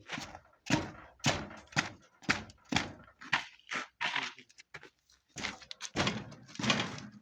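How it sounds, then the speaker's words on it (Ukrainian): A hammer taps metal in a series of sharp, evenly spaced knocks, roughly two per second, with a few brief pauses between strikes. "Візьми молоток постукай."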